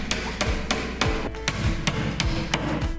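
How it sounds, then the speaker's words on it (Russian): Furniture nails being hammered into the back panel of a bedside nightstand during assembly, a steady series of about ten sharp, close hammer blows at an even rhythm. "Задняя стенка устанавливается за подлицо и прибивается мебельными гвоздями из набора фурнитуры."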